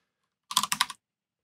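Quick typing of a command on a computer keyboard: a tight cluster of about five crisp key clicks inside half a second, close and clear, with silence around it.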